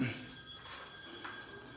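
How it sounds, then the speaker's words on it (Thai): A telephone rings faintly from a distance, nearly buried beneath people talking nearby. "เสียงโทรศัพท์ เสียงโทรศัพท์"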